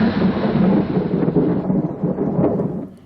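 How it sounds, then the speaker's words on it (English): Thunderstorm with a steady wash of heavy rain and deep rolling thunder, loud and continuous, easing off slightly near the end; no voices. "It's really nice and atmospheric as well, having this storm environment for so much of it."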